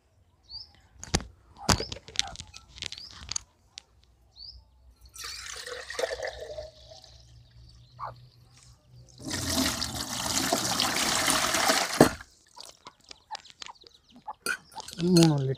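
Tender coconut water, about three liters, poured in a gushing splashing stream while making panchakavya for organic farming, with someone talking around it and faint birds chirping.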